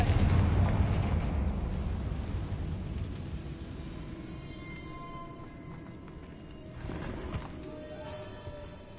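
A Confringo blast spell explodes in Hogwarts Legacy on PS5, a loud booming burst that rumbles and slowly decays, followed by crackling debris and a smaller secondary rumble near the end.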